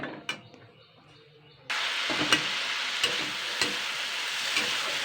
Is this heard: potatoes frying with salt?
yes